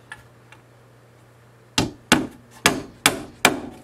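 Five sharp hammer strikes from an 18-ounce Ridgid hammer land at a steady pace during bee brooder box construction, each a loud, close whack with quick decay after a faint tick or two and a low hum.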